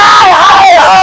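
Agitated student protesters in Patna shouting slogans together, a loud, close, strained chorus of raised voices in one short burst.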